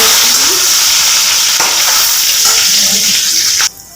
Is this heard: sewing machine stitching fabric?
no